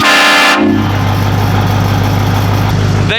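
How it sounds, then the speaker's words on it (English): A loud, blaring multi-tone train horn on a Ford F250 pickup truck sounds for a moment, then cuts off abruptly, leaving a low engine hum and rumbling before another blast begins at the end. "I'm gonna go honk the horn right quick."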